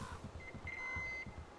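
Electronic beeping in the post-apocalyptic video game Metro Exodus: a steady tonal beep holds for about half a second over low rumbling game ambience, with no voices present.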